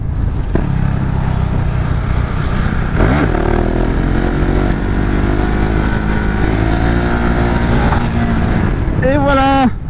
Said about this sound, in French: C'est vraiment une moto mais tellement fun et tellement facile à apprendre pour faire des wheelings